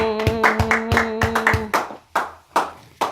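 A church congregation claps in a steady, loud rhythm during worship acclaiming God, sharp hand claps repeating at a brisk pace over sustained singing, then a few slower isolated claps.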